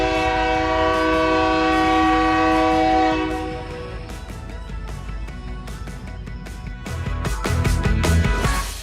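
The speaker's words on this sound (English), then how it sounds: "There comes a train." A train passing nearby, opening with a loud sustained horn blast, then clattering wheels and rail clicks as the cars roll past.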